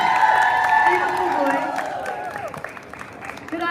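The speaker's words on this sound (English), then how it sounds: "Can we give one more round of applause?" A rally crowd at the Connecticut State Capitol breaks into applause and cheers that gradually fade, while a voice over a loudspeaker carries on above the clapping.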